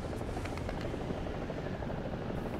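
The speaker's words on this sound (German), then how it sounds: "Oh, Feindhubschrauber, zwei Stück." Enemy helicopter in the War Thunder tank game, a steady loud rotor drone with a pulsing chop that runs unbroken and alone, with no talk over it.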